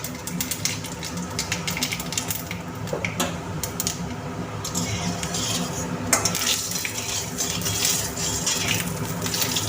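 Dry chillies, panch phoron and black mustard seeds sizzling in hot oil for a sour rohu fish dish, heard as a dense continuous crackle close by, with occasional clinks and scrapes of a spoon against the pan.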